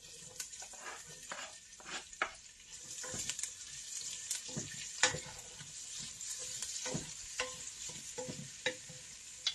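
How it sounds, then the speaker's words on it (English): Onion hitting a hot frying pan while cooking collard greens and cabbage, giving a steady bright sizzle with stirring scrapes and clatters layered on top at close range. "Now I'm going in with my onion."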